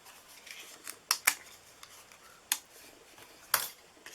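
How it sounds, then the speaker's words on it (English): A Stampin' Up paper punch cuts a lacy edge into cardstock, giving a few quiet, crisp snipping clicks, two in quick succession and then two more spaced apart, in a quiet room. "we're just going to run that through. And it's just going to cut a little bit of a lacy edge on it."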